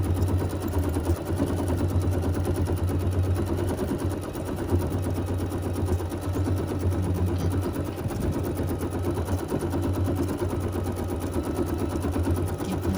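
A domestic sewing machine with an embroidery module stitches edge-to-edge quilting across a flat-backed quilt, giving a steady, continuous mechanical whir and rapid needle hum that runs unbroken at moderate loudness throughout.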